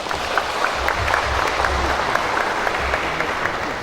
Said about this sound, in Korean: 커다란 박수를 부탁드립니다.